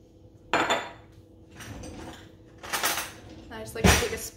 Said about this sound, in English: And I just like to take a spoon and just make sure that they're all wet.